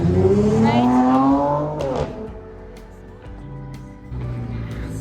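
A loud car revs hard as it passes close by, its engine pitch climbing in a sweeping roar for about two seconds. The sound then fades to quieter street noise, and a second engine swells near the end.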